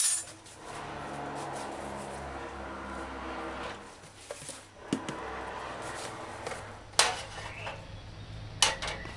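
A utensil scrapes and clinks against an oiled skillet while leftover fritter pieces are taken out, giving scattered metallic taps and scraping over a low kitchen hum.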